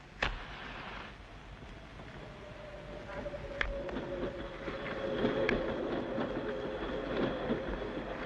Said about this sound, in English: the last steam loco of a bygone era